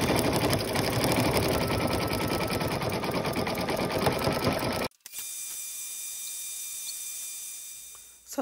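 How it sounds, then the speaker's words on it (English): A sewing machine stitches felt Christmas stockings in a steady, loud, rapid mechanical whir that runs for several seconds, then cuts off abruptly, leaving a quieter hum of the idling motor and room background. "I am going to sew the stockings together with the cuff and the socks with the design, the front and the back."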